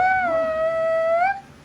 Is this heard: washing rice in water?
no